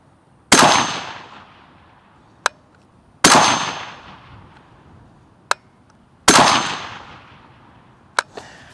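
Springfield Armory Hellion bullpup rifle firing 69 grain Remington match ammunition for groups: three loud, sharp single shots spaced about three seconds apart, each with a decaying outdoor echo, followed by a faint click.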